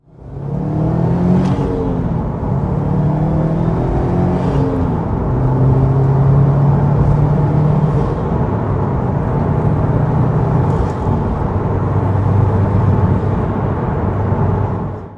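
A 350 bhp four-wheel-drive Subaru Impreza STI with a Milltek exhaust pulls hard in second gear in sport sharp mode, its engine note climbing steadily, heard loud from inside the car with no talking.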